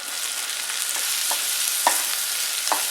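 Salt and turmeric stirred into a hot frying pan give a steady sizzle with a few soft scraping strokes of a spoon, close and alone with no talking.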